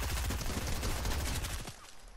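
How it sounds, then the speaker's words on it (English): Rapid bursts of gunfire in a Fortnite match, fired through a wall, a loud dense fusillade of overlapping shots that cuts off abruptly near the end. "they're shooting at me through the wall"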